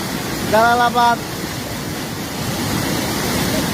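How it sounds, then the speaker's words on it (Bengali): Khowai river floodwater roars through an old breached embankment at Jalalabad, Habiganj, after two days of heavy rain: a loud, continuous rushing wash, with a voice heard briefly near the start. "জালালাবাদের বাঁধ ভেঙে প্রচণ্ড পানি ঢুকতেছে।"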